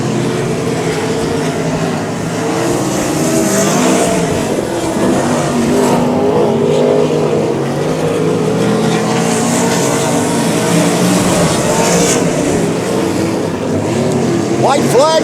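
Race cars roar around the oval at Heart O Texas Speedway during a heat race, a steady loud engine drone with passing surges, under continuous trackside commentary.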